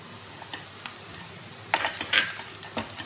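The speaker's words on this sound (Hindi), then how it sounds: "इसको अच्छे से मिक्स करेंगे" Cumin and coriander powder stirred into fried onions for egg curry in a pan, a soft continuous sizzle broken by spoon scrapes and clinks that grow louder midway, with no voices.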